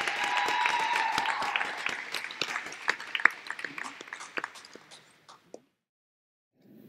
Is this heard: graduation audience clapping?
yes